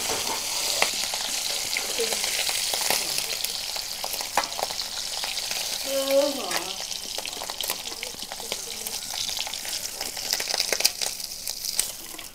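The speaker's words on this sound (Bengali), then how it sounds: "মাছ তো কম ভাজতে হয়" Fish sizzles lightly in mustard oil in a rural Bengali kitchen, a steady close crackle running throughout with occasional stirring and faint voices underneath.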